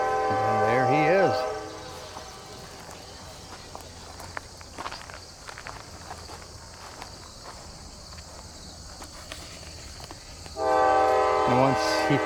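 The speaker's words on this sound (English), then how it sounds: "we have a rescue train on its way to pick up the rest of the cars." A rescue train arriving at a railroad crossing, two loud horn blasts, one at the start and one near the end, with the quiet rumble of rail cars and footsteps in between.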